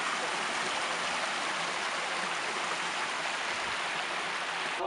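Water running from the old San Vincenzo spring at abandoned spa springs in Castellammare, a steady, even rush of flowing water heard close up and continuously, with no talking.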